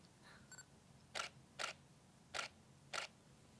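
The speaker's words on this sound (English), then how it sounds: "That really soft, soft shutter click." Four soft, muffled shutter clicks from a Nikon D810 DSLR during a portrait shoot, evenly spaced and close, heard against a low hum of room noise with no talking.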